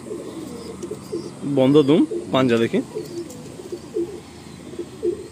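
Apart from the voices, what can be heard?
Madrasi pigeons cooing at a pigeon sale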